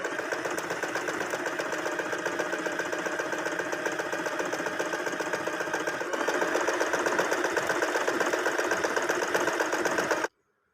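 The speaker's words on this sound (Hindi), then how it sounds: "यहाँ पे जिगजैग सिलाई लगाएं" An Usha sewing machine running a zigzag embroidery stitch whirs in a rapid, even mechanical chatter, growing a little louder partway through before stopping abruptly near the end.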